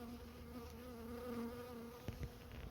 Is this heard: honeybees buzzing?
yes